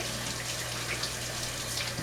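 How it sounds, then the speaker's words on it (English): Tap water runs steadily into a kitchen sink as hands are washed after handling raw egg, a continuous, even hiss of flowing water heard alone. "I want to wash my hands quickly because I was working with raw egg."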